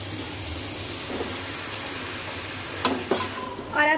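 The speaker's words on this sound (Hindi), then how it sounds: "और अब डाल देंगे इसमें हमारी सेवई" Semiya vermicelli added to a pan for veg upma, heard as a steady soft sizzle with a few sharp scraping stir strokes and clinks toward the end, close and moderately loud.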